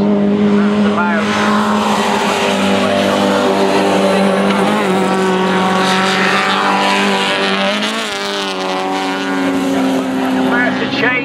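Classic race cars at a round of the 2011 NSSCC Classes B, C, D & H racing on a circuit, several engines roaring loudly and continuously and shifting pitch as they brake into a corner, with commentary talking over them throughout.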